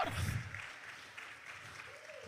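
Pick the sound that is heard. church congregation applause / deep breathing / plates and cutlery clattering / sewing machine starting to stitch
church congregation applause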